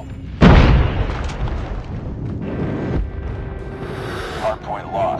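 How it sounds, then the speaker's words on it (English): A loud airstrike blast in Call of Duty on the Nuketown map, a sudden boom that fades into rumbling, followed by further bursts and game noise, with a voice briefly under the mix. "Enemy airstrike incoming."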